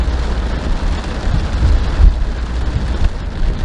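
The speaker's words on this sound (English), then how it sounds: "Can you hear the rain?" Steady hiss of rain falling, broad and continuous, with a low rumble beneath and no voices.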